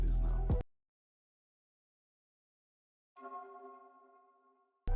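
A Kontakt accent sound processed with an H949 harmonizer vocal flange, vintage reverb and low-cut EQ: an abrupt cutoff, then a lone tonal, sonar-like chord with shimmering overtones that decays over a second or so.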